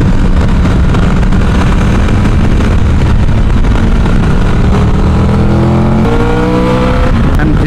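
A car engine revs hard on a mountain road at Campo Felice, loud and close, climbing and surging through gears with a rising whine as it accelerates past.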